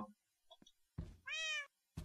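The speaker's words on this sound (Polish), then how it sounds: "Mamy kotka." A cat meows in the Minecraft video game, one clear drawn-out meow among short game blips and thuds, with a brief human vocal sound before it.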